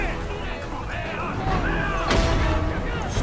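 A heavy cannon blast in Battlefield 1 booms once amid dense game noise and a talking voice, a sharp crack followed by a rumbling tail.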